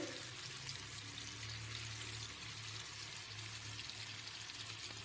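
Chicken 65 pieces just added to oil over a high flame, a dense, continuous hiss of deep-frying, faint and even throughout with no voices.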